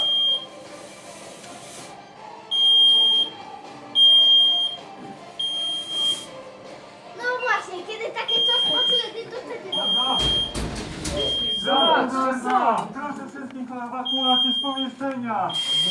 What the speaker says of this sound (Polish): Czujka się wzbudziła.